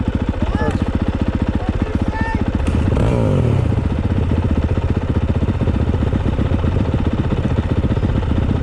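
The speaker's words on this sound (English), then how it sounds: "Gotta give it a little bit of gas when you start it." A 2022 Honda CRF 450RX dirt bike engine is started with a little throttle and kept running at dusk, its loud close rapid thumping idle steady throughout, with a voice briefly heard over it.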